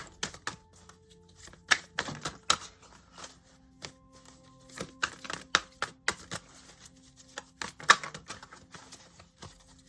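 Irregular dry taps and soft flicks of tarot cards being shuffled and handled, close by, in short bursts with quiet pauses between.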